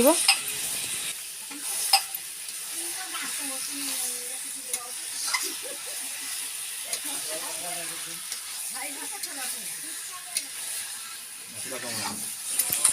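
Chicken frying in a pan with chili powder, turmeric and masala, a constant soft sizzle under repeated scraping and stirring strokes, close and moderately quiet.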